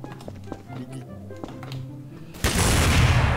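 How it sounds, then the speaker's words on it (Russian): Explosions and gunfire in the game Garry's Mod: a loud broadband blast erupts near the end and sustains, after scattered sharp taps and thuds under ongoing talk. "Ого, что там за взрывы?"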